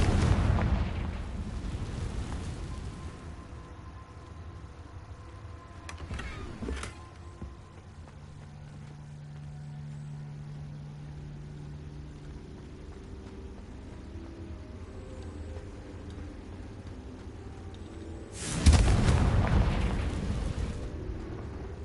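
A fiery blast from the Confringo blasting spell in a video game bursts out at the start, followed by a sharp pop near seven seconds and a second loud, booming explosion near the end over a low, quiet background.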